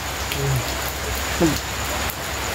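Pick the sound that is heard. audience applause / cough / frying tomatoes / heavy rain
heavy rain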